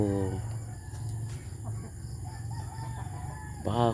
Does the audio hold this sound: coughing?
no